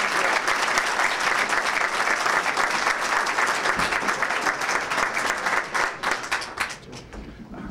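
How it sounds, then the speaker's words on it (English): Sustained audience applause at a city's State of Our City address, dense steady clapping from a large room that holds for several seconds and thins out toward the end. "Give Scott a nice round of applause."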